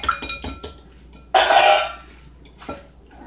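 Two eggs beaten in a bowl for yeast rolls: a quick run of light clinking taps of utensil against the bowl, then a brief louder scraping whisk burst and one final clink, close and alone without talk.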